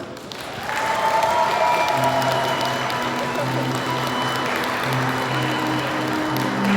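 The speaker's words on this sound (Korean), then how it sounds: "뒤쪽에 양가 어머님께서 입장하실 때 큰 박수로 맞아주시기 바랍니다" Wedding guests applaud steadily as the mothers of the bride and groom enter, a sustained wash of many clapping hands under a held musical tone, continuing without a break.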